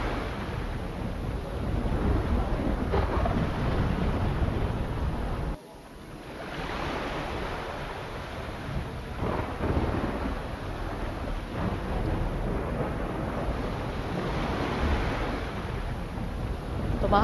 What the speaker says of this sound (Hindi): जब समंदर में इस तरीके का उफान आता है तो जाहिर सी बात है कोई बड़ा तूफान आता है